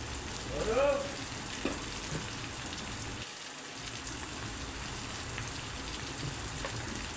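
Spiced leafy greens with salt and chili powder are stirred in a pan, giving a steady low sizzle with a faint scrape of the spoon early on. The cooking sound is soft and continuous, with no talking.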